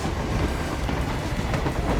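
A train rolls along rails inside the Hitman Freelancer video game, giving a steady, dense rumble with faint clickety-clack that holds even and fairly loud throughout, with no voices over it.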